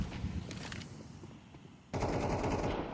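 Rifle fire from an AK in the Counter-Strike video game: a scattered rattle of shots early on, then a sudden loud sustained burst near the end, with no talk over it.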